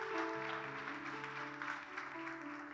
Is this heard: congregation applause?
yes